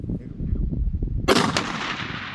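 One sharp gunshot cracks out loud and close during an outing in a Mongolian marsh, after a stretch of low rumbling wind or handling noise. A short echoing decay follows the blast.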